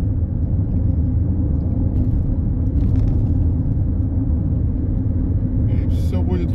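A car on a road trip to the store in wartime Israel makes a steady, close interior rumble of engine and road noise, with someone speaking quietly in the background.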